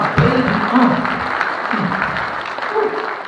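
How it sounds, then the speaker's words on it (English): Audience applause at a Western Art Week performance for a fancy dancer's wife, clapping under a voice speaking over it. "Give her a round of applause."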